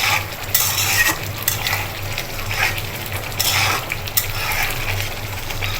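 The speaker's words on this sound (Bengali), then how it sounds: "দেখুন মশলাটাকে ভালো করে নেড়ে চেড়ে কষিয়ে নিব।" A tomato spice paste is stirred and fried in a pan, with a steady sizzle under repeated scraping and clinking of a utensil against the metal, close up and without talk.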